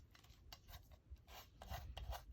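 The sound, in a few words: rubbing ink onto a paper craft tag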